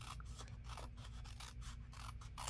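Scissors cut paper for a handmade fancy envelope pocket, giving steady repeated snips against a constant low hum, close by and fairly quiet, with no talking.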